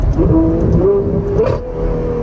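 A loud Ferrari V12 engine revs and drops with a sharp crackle from the exhaust, the pitch sliding as the gears come down.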